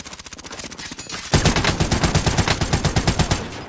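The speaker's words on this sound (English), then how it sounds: "What kind of fucking shitty ass gun is this?" Rapid automatic gunfire from a gun in Warzone on PS5, heard as a steady string of close, punchy shots that grows louder and denser partway through, with no talking.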